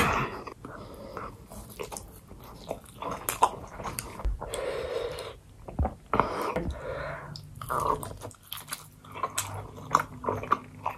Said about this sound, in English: And I'm gonna be eating the sushi with samyang hot sauce.